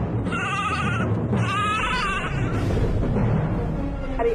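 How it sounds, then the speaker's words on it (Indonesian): A goat bleating loudly and close, two wavering cries in quick succession followed by a rougher third call, over busy background noise. "kambing yang mengganggu Tong Bajil tidur"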